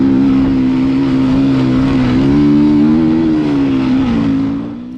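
A Beta dirt bike engine is held at high revs while being ridden on a trail, a loud, steady, close buzzing drone that rises and dips slightly before easing off at the end.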